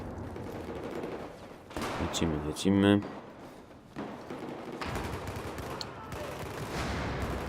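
Battlefield 4 gunfire: a fast burst of automatic fire around the midpoint amid a dull battle din, with someone talking over it.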